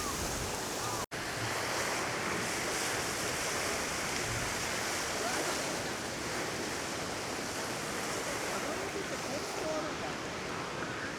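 Strong wind blows outdoors among trees on an autumn day in Japan, a continuous broad roar with one brief dropout near the start.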